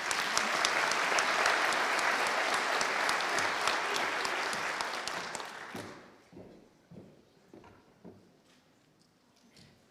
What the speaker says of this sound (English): you clap when the next person comes up